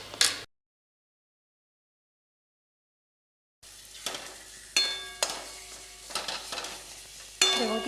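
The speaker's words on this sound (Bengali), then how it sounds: "দেখুন কি সুন্দর কষাচ্ছি" Bengali egg curry masala sautéed in a pan with ground coriander, a spatula scraping and stirring in repeated strokes over a soft sizzle after a brief silent gap, close and moderately loud.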